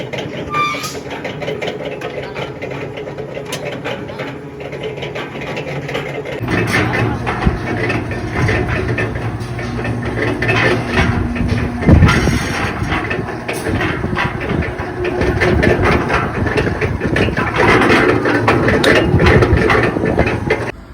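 A half-bag concrete mixer machine's engine runs steadily with a loud mechanical chugging that grows fuller partway through, rattling and clanking under scattered voices.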